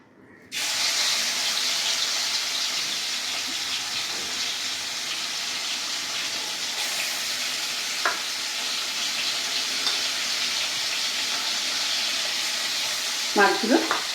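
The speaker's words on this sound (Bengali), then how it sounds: "মাছগুলো কড়াইয়ে ছেড়ে দিচ্ছি।" Small prawns frying in a wok (kadai), a dense continuous sizzle that starts suddenly and holds steady, with a few brief clinks and stirring knocks near the end, no speech.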